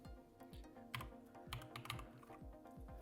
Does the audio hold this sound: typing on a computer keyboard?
yes